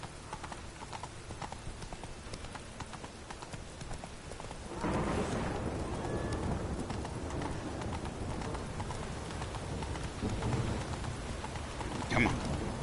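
A heavy downpour in a city in The Witcher 3: Wild Hunt, a dense continuous hiss of rain that thickens and grows louder partway through, with hooflike clatter and faint rumbles mixed into the steady wash.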